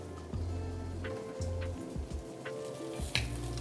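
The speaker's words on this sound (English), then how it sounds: "the green beans can all go in the pan there" Blanched green beans sizzle steadily in a hot pan on the back of the stove, a close, continuous frying hiss with occasional soft stirring scrapes and no talking.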